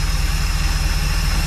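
A Mopar car with a freshly rebuilt carburetor runs in gear on slightly low tires, its engine giving a steady, loud low rumble with an even idle throb and no one talking.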